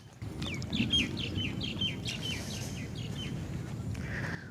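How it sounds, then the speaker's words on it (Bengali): A bird on a river island village gives a rapid series of repeated chirping calls, fairly close over a soft outdoor background, with a fainter call at the end. "পাখি ডাকাডাকি করছে।"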